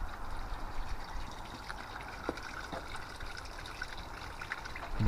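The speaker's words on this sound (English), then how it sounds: "We've got the water feature going for the birds." A garden water feature trickles quietly outdoors, giving a soft, continuous splashing burble at low level with faint background ambience.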